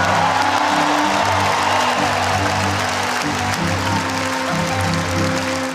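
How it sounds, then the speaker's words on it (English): Steady, dense applause and crowd noise in a large stadium as King Charles and Queen Camilla take their places in the royal box, continuous and loud throughout with a low hum beneath. "Plenty of applause for the pair as their majesties took their place in the royal box."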